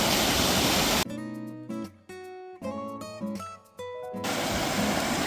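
Rushing river water at a crossing on the Owl's Head hike in New Hampshire's White Mountains, a steady broadband roar at the start and end, with a stretch of music covering it in the middle.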